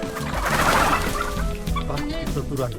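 Free-range country chickens cluck and call while pecking at scattered leftover feed in a busy outdoor yard, several birds close by, with a steady background of murmuring and faint voices.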